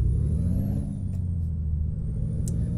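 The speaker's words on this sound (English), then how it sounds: "there's the two different engine sounds that we would expect" A Freightliner Cascadia truck engine in American Truck Simulator idles with a deep, steady rumble and a thin high whine above it, close and continuous.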